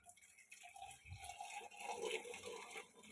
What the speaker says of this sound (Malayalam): കപ്പിലേക്ക് നന്നായി പതച്ച് അടിച്ച് ഒഴിക്കുക.